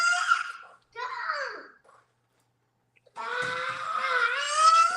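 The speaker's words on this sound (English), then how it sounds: "My kid is screaming." A small child screams and wails in high-pitched bursts, loud and close, with a silent pause between the outbursts and a long sustained shriek at the end.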